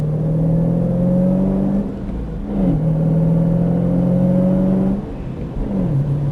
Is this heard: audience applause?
no